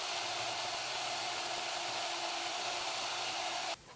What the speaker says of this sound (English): I'm gonna cut this right down the middle with my bandsaw and just get a look at the inside